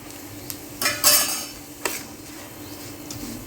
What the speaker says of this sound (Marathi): आता हे पूर्ण तेल टाकून मी मिक्स करून घेते